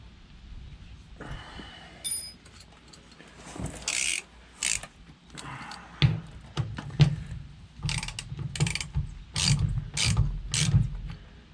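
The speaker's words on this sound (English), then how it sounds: "I'll probably just use the ratchet to do it the rest of the way" A ratchet tightening fuel line clamps on a 5.9 Cummins fuel sump install, heard as bursts of rapid metallic clicking that grow denser toward the end, close and fairly loud, with quiet pauses between.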